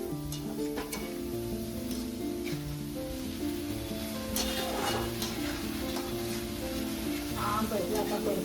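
Soaked dry shrimp sautéing in a pan for chutney, a soft continuous sizzle with occasional stirring scrapes, under faint background music or hum.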